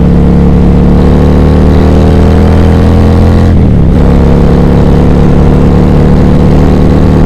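A Harley CVO motorcycle fitted with an S&S 132 Stage 4 big bore kit revs hard and close, its loud deep engine roar steady and sustained apart from one brief dip mid-rev, with no talking.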